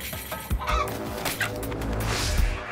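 A hen clucks in sharp, agitated bursts while fighting a cobra, close and loud, with a few soft thumps and scuffles between the calls.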